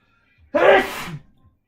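A single loud close-up sneeze during a Commander Magic: The Gathering game night, a sharp burst with a short breathy tail and a faint intake just before.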